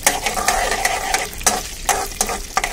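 A spoon stirs seviyan fried in desi ghee with cardamom in a pan, giving rhythmic scraping strokes over a constant sizzle, close and fairly loud.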